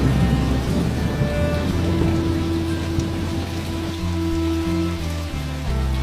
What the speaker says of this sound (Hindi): राजू बारिश में भीगते हुए खेत की ओर चला जाता है।